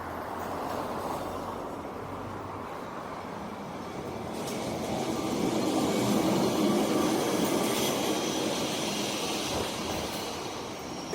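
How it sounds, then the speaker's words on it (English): A Lisbon street tram or train rumbles past in the open city, a broad steady roar that swells to its loudest midway and then eases, with traffic and street noise around it. "You see that's the train."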